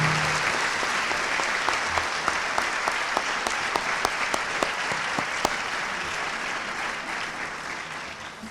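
Steady applause from an audience at a high school senior honors convocation, dense clapping that holds evenly for several seconds before easing slightly at the end.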